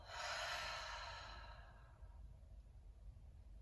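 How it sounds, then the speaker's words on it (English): A deep nasal inhale swells into a long, breathy open-mouth exhale that fades out over about two seconds, close and clear during a guided vinyasa yoga breathing exercise, followed by near-silence. "Deep breath in through your nose. Open mouth exhale."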